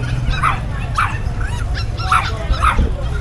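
A female Saint Bernard puppy at an outdoor pet market in San Miguel, Bulacan gives four short, high yipping barks spaced about half a second to a second apart, heard over steady crowd murmur.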